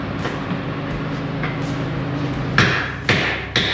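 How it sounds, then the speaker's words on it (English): Metal clanks and a few loud hammer blows ringing out near the end as steel brackets are chiseled and hammered off a Jeep LJ, over a steady background drone. "So just chiseling and hammering off some of the brackets to save grinding time."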